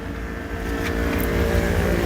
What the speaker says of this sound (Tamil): இப்போ நான் எக்ஸாஸ்ட் நோட் ஒன்று காட்டுறேன்